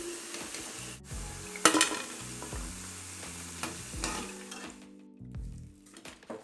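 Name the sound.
vadas frying in oil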